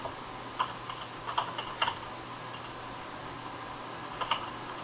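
Light typing on a computer keyboard in a quiet room, a few scattered bursts of soft key clicks close by over a steady low fan hum, with no talk.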